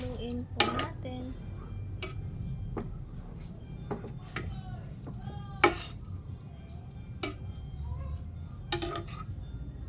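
Beef and spinach are stirred in a metal pot, with a series of sharp utensil clinks and scrapes against the pot over a low background rumble, fairly quiet and close.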